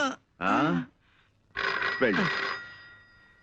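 Telephone bell ringing indoors in a comedy scene, loud repeated rings in bursts with short gaps, ending in a fading tail.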